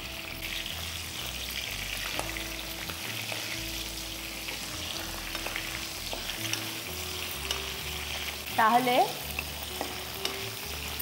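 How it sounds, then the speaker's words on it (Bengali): Fish head frying gently in oil in a home kitchen with bay leaf and cumin seeds, a steady low sizzle with soft stirring throughout and a brief louder clatter near the end; a single short spoken word. "প্রথমে মাছের মুড়োটা দিয়ে দেওয়া হলো এরপর হালকা ভাজার পর তেজপাতা"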